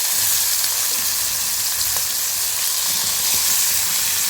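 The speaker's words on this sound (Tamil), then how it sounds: "இப்போ இருக்கிறதையும் இதோட சேர்த்து பொரிச்சுக்கலாம்" Beef and rice ingredients frying in hot oil for Arabian beef kabsa, a steady, loud sizzle with a constant crackling hiss throughout and no voices.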